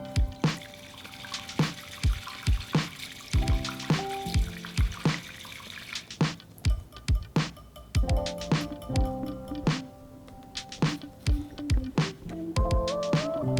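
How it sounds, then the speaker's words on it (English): Heated water poured into a chawan matcha bowl for ceremonial matcha prep, a close trickling and splashing pour broken by clinks and taps of ceramic, with ringing tones as the bowl fills; no talk. "I pour the heated water into the Chawan or matcha bowl to heat up and prep up the bamboo whisk"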